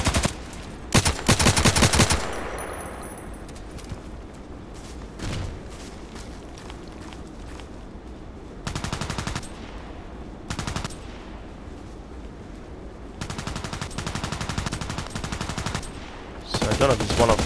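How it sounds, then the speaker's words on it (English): M4A1 rifle fire in Contract Wars, loud repeated bursts of gunshots in several clusters with short pauses between, some single cracks, steady game ambience underneath. "This M4A1 is really good. Long distance shots, precise, especially precise."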